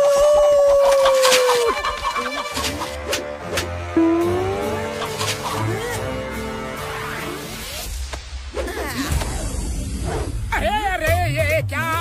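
Cartoon chickens cluck and squawk as a wolf hunts them, amid a busy, loud mix of engine noise, music-like tones, and a voice talking.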